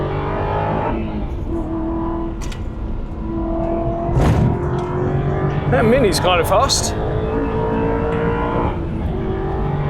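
An Aston Martin V8 Vantage with a manual gearbox pulls hard through the gears on a road course, engine note rising and falling with shifts under steady in-car talk, loud and close throughout.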